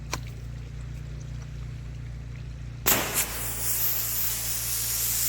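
A steady low hum runs for a while, then a pressure washer cuts in abruptly, pre-wetting the outside of a surface with a loud, broad, hissing spray that continues to the end.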